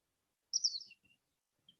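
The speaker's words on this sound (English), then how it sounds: "just tuning into the sensations around you, the sounds of the birds" A small bird outdoors on open grass gives a quick, high chirp, quiet and somewhat distant, followed after a pause by one brief thin note against near silence.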